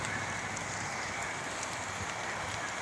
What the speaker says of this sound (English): it's getting my phone wet because it's raining and sunny simultaneously